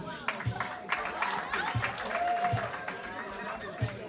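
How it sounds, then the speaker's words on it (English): Moderate crowd applause at a commencement ceremony, soft scattered clapping heard under music and talk, with a few sharper claps standing out. "A round of applause"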